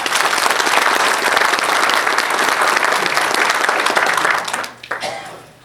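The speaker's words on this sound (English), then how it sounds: "You deserve applause." Sustained applause from the audience at the NC Drag Racing Hall of Fame induction ceremony, a dense, steady wash of many hands clapping at a close distance, tapering off near the end.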